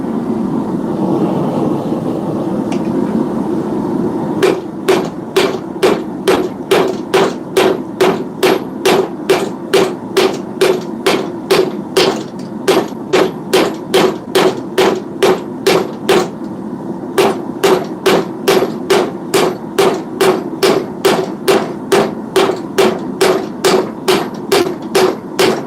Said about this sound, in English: Going back to the hammer.